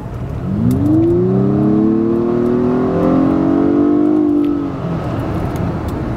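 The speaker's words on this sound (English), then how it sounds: "I'm just going to rev this thing for just a second and listen to the high-pitched squeal it gives you" A car engine revs up at a car show and holds high for a few seconds, a rising high-pitched squealing whine riding over the roar before it drops back.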